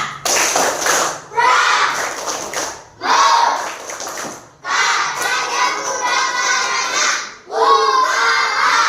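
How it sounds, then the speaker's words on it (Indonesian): Children in scout uniforms in a classroom perform the rhythmic Pramuka clapping chant. Bursts of patterned claps and chanted voices come in several loud phrases, each separated by a brief pause. "yuk kita sama-sama tepuk pramuka"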